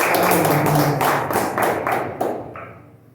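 A church congregation claps, dense and loud at first, then thins out into a few scattered claps before fading to quiet.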